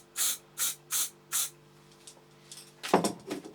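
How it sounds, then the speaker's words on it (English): Aerosol can sprayed into a container lid during an old IBM ThinkCentre rebuild: four short even hissing bursts in a row, then fainter clicks and handling noises close by. "I just sprayed it into the lid of the container."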